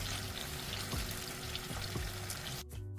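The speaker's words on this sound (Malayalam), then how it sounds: "അതുവരെ നമുക്ക് ചിക്കൻ ഒന്ന് ഫ്രൈ ചെയ്തെടുക്കാം" Chicken pieces fry in a hot pan for butter chicken, giving a dense, steady sizzle and crackle close up with a few soft stirring scrapes, fading briefly near the end.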